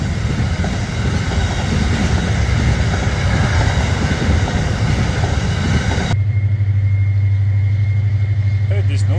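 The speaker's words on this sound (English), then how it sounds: "This is the bloody second train in the last bloody hour." A freight train rumbles loudly past a caravan free camp beside the tracks, a dense roar of rolling wagons for about six seconds before it cuts to a low steady hum.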